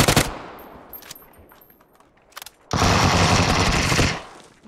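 Automatic gunfire in the battle royale game PUBG, a few scattered shots followed by a loud sustained burst of rapid fire lasting over a second, close and harsh, no talk.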